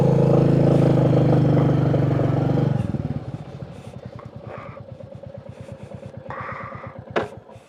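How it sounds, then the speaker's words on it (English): A Royal Enfield Bullet 350 motorcycle engine idles loudly and steadily, then abruptly cuts out and chuffs through a few slowing, uneven strokes before falling quiet, with faint clatter afterward. "My bike's just died."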